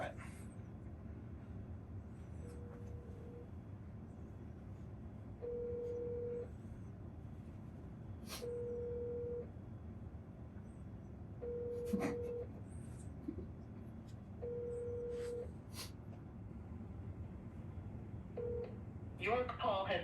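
Six short DTMF beeps from a telephone keypad sound at spaced intervals over a low background murmur, followed by a brief rustle at the end.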